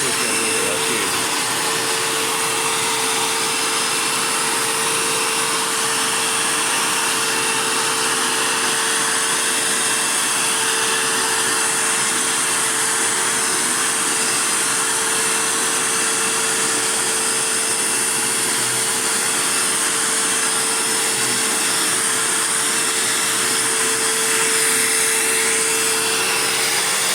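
A Dirt Devil Jaguar Feather Lite bagged vacuum cleaner runs nearby with a constant loud motor whine and a steady high tone, unbroken for the whole stretch.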